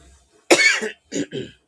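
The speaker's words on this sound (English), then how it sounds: "I'll be so glad when I'm done coughing." One harsh cough followed by two shorter, quieter coughs in quick succession, close and alone.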